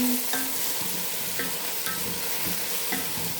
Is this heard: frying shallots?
yes